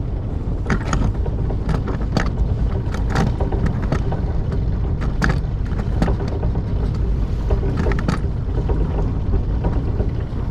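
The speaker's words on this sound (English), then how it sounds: "we're going to keep the motor on just to be a little bit closer to the lighthouse" A sailboat's motor runs steadily near a lighthouse on open water, a constant low drone mixed with wind buffeting the microphone and occasional knocks and creaks of rigging, with no talking.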